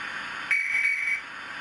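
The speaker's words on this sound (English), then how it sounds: "F14 guards whistle." A Hornby TTS model locomotive sounds its guard's whistle: a single steady shrill blast of about two-thirds of a second, clear and close over a faint background hiss, with no talking.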